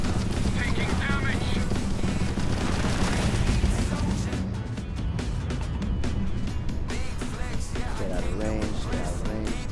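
Spaceship weapons fire in the video game Starfield as dense repeated bursts over a continuous engine rumble, loud and busy throughout, with game voice and effects layered in.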